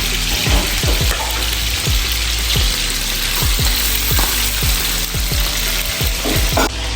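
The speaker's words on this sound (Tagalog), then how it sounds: "Tumulong na nga ako sa pagpiprito ng isda para mas mabilis yung pagluluto namin" Fish frying in a pan makes a loud, continuous close-up sizzle, peppered with frequent sharp pops and crackles of spitting oil.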